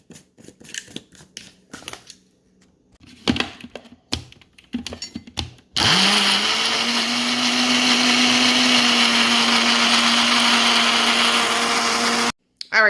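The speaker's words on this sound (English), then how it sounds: "let's go ahead and blend this up until smooth" A countertop blender purees plantain pancake batter. It whirs loudly and steadily for about six seconds, then cuts off abruptly. Sharp clicks and taps from handling come before it starts.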